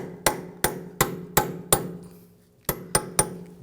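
Hammer striking a chisel to bend back the peened axle nut on a 2007-2013 BMW 328i 3.0L L6, eight sharp metallic blows, five evenly spaced, a pause, then three more, close and clear.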